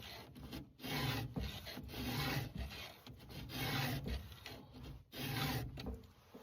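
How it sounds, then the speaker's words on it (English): Hand file rasping across a chainsaw chain's cutters and depth-gauge rakers, in repeated close, scratchy strokes separated by brief pauses, with no talking. "And we'll just get these edges tuned up really quick on this chain."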